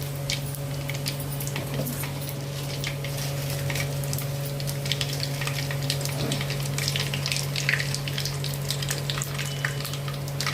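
Cumin seeds frying in oil in a large pot for a veg pulao, a steady close sizzle and crackle over a constant low kitchen hum, with faint stirring scrapes, no talking.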